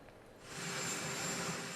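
Jet engine of Air Force One, the US presidential aircraft, a steady broadband roar that swells after the first half second and holds loud and even, with no talk over it.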